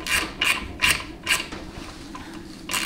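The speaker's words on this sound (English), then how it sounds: "Even with bolts like this, I would only use the little quarter inch drive impact." A quarter-inch drive impact gun tightens bolts on a 700R4 transmission, firing in a run of short rattling bursts at a steady rhythm, close and alone, with a pause before a final burst.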